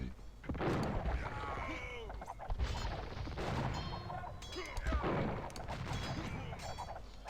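Repeated hand cannon gunfire cracks and crashing impacts from a battle in Age of Empires, loud and irregular, layered with shouting voices and clashing noise.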